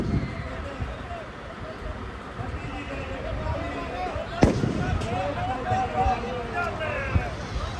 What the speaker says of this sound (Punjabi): ਹੁਣ ਦੇਖਿਓ ਹੁਣ ਪੈਂਦੇ ਪਟਾਕੇ